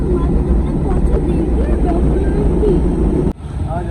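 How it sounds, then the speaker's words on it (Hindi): Strong outdoor wind buffeting the microphone in a loud, steady low roar that cuts off abruptly near the end, with a voice talking underneath. "इधर बड़ी आंधी चल रही है गाइस, क्योंकि इधर बड़ी हवा चल रही है।"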